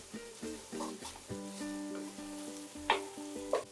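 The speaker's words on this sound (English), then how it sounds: "andouille sausage is starting to release the fat" Andouille sausage fries in a pot for gumbo, its fat starting to render, with a steady close sizzle broken by stirring scrapes and a couple of sharp utensil knocks near the end; a faint tonal hum runs underneath.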